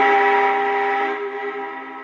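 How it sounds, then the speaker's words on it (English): A model train whistle from an old Rail Sounds 4 system, a single steady sustained multi-tone blast that holds loud and then eases off slightly near the end, heard alone. "I like that whistle."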